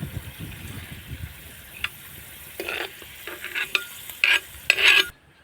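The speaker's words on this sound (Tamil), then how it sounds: "இப்போ வந்து இந்த பச்சை எல்லாம் போகிற அளவுக்கு இதுவையும் வதக்கிக்கணும்" Ingredients sautéing in oil in a pan, a soft sizzle under repeated stirring and scraping, with louder bursts of frying toward the end before it cuts off.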